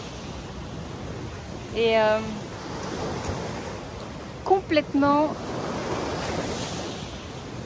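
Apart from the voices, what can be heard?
sea waves on the Costa Brava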